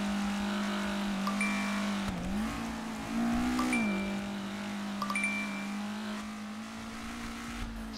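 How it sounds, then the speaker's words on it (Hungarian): A car engine in GTA V roleplay roars loudly and continuously, holding a steady drone with a couple of brief revving swells and no pause. "nem hallok semmit, mert nagyon ordít az autó"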